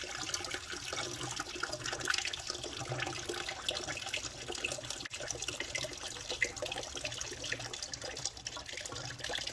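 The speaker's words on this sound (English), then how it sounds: "And then you just sit there for a while waiting for all the coolant to drain." Coolant draining from the radiator of a Suzuki SV650 motorcycle: a steady, soft trickling and splashing of liquid, continuous and fairly faint, with no voices.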